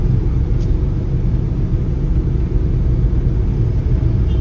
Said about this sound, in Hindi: अभी एक गाड़ी देखी है, बहुत पुराना मॉडल, क्या शानदार गाड़ी है